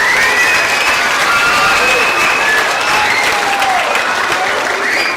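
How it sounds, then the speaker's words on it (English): Steady, loud applause from an elementary school winter concert audience fills the room, dense clapping sustained throughout with faint voices mixed in. "I want you to give them another round of applause."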